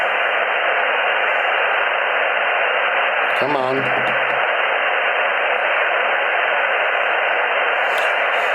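A ham radio receiver hisses with steady, dense static through an MFJ-1026 noise canceller. A brief warbling signal and a short spoken bit break through the constant hiss partway in.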